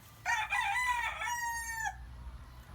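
Sweater breed gamefowl rooster giving a single clear crow lasting under two seconds, moderately close, with quiet farmyard background and no talking.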